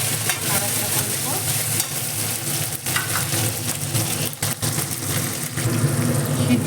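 Chopped tomato and green chilli paste sizzle and fry in a pan while being stirred, the loud steady frying punctuated by scraping spoon strokes throughout.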